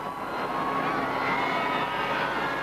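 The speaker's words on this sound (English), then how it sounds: "overhead, a bright yellow Sea King helicopter made a surprise fly past." A steady engine roar of a Sea King helicopter flying overhead, sustained and fairly loud, with no breaks or voices.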